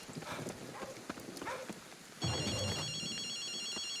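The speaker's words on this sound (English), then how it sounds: "I do hear phone ringing." A phone rings inside a video game, a steady electronic ringtone with stacked warbling tones that cuts in midway and repeats under a low game background hum, following quieter ambient game sounds.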